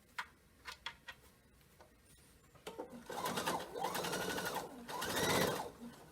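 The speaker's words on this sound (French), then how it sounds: "maintenant, je vais refaire ma surpiqûre sur le haut" A domestic sewing machine topstitches across the top edge of a fabric face mask, starting with a few isolated ticks and clicks before breaking into two sustained bursts of fast, whirring stitching, close and moderately loud.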